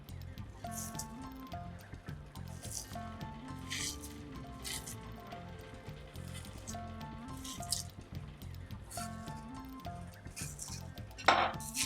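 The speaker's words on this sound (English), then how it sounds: "Mix everything really well." A mackerel fish cutlet mixture being mixed by hand in a bowl, soft wet squishing and squelching in repeated strokes, with occasional light clinks of a dish and faint background music.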